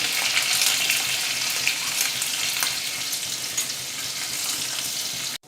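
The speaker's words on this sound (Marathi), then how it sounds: "आता आपण त्याच्यामध्ये लसूण घालूया मिरची घालूया" Garlic and green chili dropped into hot oil with bloomed cumin seeds, a steady loud sizzle and crackle close by, continuous until it cuts off abruptly at the end.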